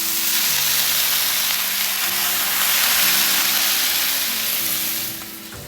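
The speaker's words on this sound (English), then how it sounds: "I'm gonna add steam on this side, shut the lid, and let that steam have like a convection style effect." Steam hissing and sizzling steadily on a hot flat top griddle under a closed lid while a meatball sub cooks, a loud, continuous broadband hiss that fades slightly at the end.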